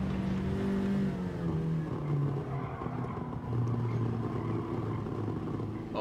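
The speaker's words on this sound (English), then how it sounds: "burble on the overrun there. That's quite stunning." Mini Cooper S engine in the Gran Turismo racing game, steady engine drone with shifting harmonic tones and a burbling note as the throttle lifts, loud and continuous with no talking.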